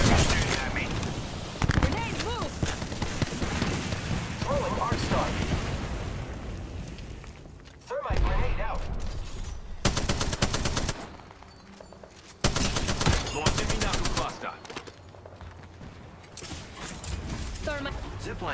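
Sustained, dense gunfire in the Apex Legends battle royale, loud and close, with bursts of automatic fire and sharp broadband blasts that cut in and out around game effects and voice callouts.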